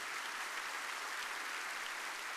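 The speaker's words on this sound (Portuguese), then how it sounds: "Pode aplaudir o Senhor." A church congregation applauds steadily through a Baptist morning worship service, the clapping dense and even from start to finish with no voices over it.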